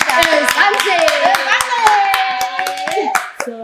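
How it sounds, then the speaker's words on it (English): A small group claps for the show's producer, a close, rhythmic run of sharp hand claps under overlapping voices talking and laughing. "let's actually give a round of applause for our producer"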